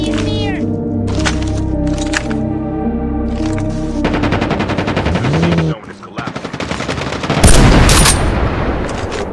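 Gunfire in the Call of Duty video game, loud rapid automatic bursts with sharp cracks over a droning music bed, a brief dip near the middle, then a heavy blast.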